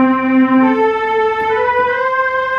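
Sustained organ-like keyboard tones, sampled and played from an Android phone app, hold steady harmonic chords that shift gently, sounding loud and continuous without any talking over them.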